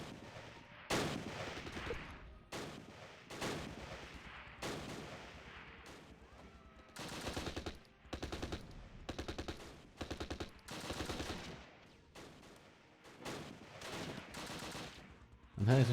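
Bursts of gunfire in a Close Combat video game battle at Arnhem rail bridge, repeated rattling volleys and single shots in an irregular rhythm, moderately distant, with short pauses between clusters.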